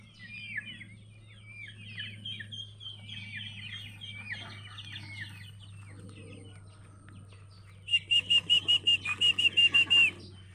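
Chickens in a countryside yard, scattered clucks and chirps over a steady low hum, then a loud close run of rapid rhythmic clucking near the end.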